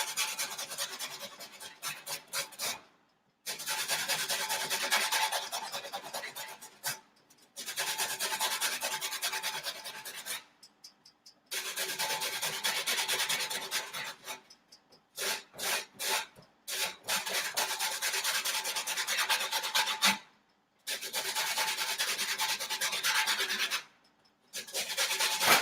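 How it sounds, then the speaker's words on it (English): Rasping strokes of a lemon peel scraped across a grater during home baking, long steady bursts of gritty scraping separated by short silent pauses, close and fairly quiet. "you're literally just kind of grating the peel part of the lemon off"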